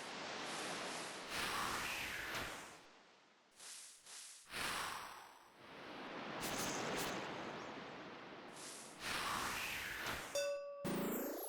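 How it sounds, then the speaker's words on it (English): A bell rings in the puzzle video game Isles of Sea and Sky, a clear ding with a ringing tail near the end, following long stretches of soft, wave-like ambient noise. "We rang the bell."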